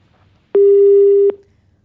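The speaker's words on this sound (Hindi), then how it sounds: "वासु का फोन डिस्कनेक्ट हो गया" A telephone line disconnect tone cuts into a Hindi TV news phone report on a Bhopal rape and blackmail case, sounding as one loud, steady electronic beep of under a second against quiet background hum.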